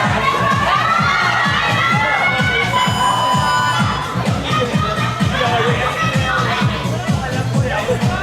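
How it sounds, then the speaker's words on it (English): At a bouldering competition finals, the audience keeps up loud, continuous cheering and shouting, with children's voices and general crowd babble filling the space throughout. "you can hear a lot of support for Nigel and Charlotte from the audience"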